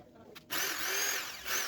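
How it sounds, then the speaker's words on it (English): A power drill bores holes into a wooden frame for a bead curtain: after a brief quiet start it whirs up into a steady high whine that holds for over a second, close and loud. "So here I'm drilling the holes onto our frame"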